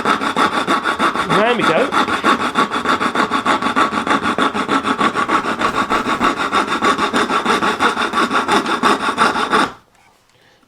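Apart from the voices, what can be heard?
hand saw back-cutting a skirting board along a line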